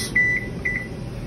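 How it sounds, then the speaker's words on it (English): A kitchen timer gives two short pairs of high electronic beeps, close and clear, against a quiet low room hum. "Put on the timer, 2 minutes"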